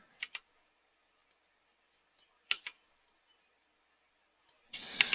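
Sparse, faint mouse clicks while drawing nets in EAGLE circuit design software, a few single and double taps spread apart, ending in a brief louder burst of clicking.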